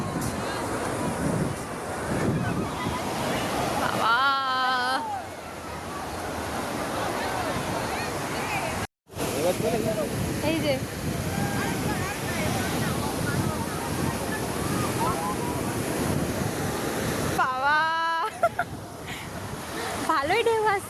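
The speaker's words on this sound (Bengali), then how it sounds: "ভালোই ঢেউ আসছে।" Waves on a river wash steadily against the bank under constant wind buffeting, while people's voices and a child's excited calls rise over the surf.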